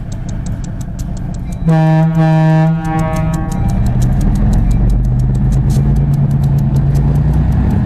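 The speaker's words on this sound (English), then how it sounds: "Here's a better shot of 1860's horn." Horn of Beaufort & Morehead locomotive 1860 sounds one loud, steady multi-tone blast of about a second, standing out over idling engine rumble and low background noise that continue afterward, with no talking.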